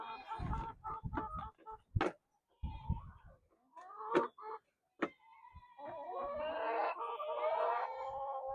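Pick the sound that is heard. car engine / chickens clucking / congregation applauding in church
chickens clucking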